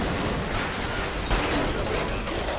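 Gunfire in the XCOM Enemy Unknown video game forms a dense, continuous crackle of shots and blasts, with one sharper hit near the middle and no voices over it.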